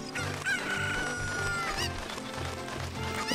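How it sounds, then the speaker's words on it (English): Chickens cluck and squawk in Zelda: Ocarina of Time, with a rooster-like crow, layered over looping background music at moderate volume. "This chicken is going to be our companion this adventure."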